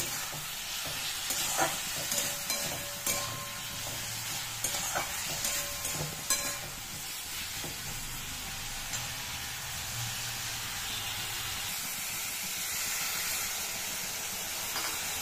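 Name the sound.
spices and chili powder being sautéed in a pan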